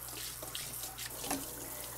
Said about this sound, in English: it's dusty enough that I'm going to rinse it off before I show you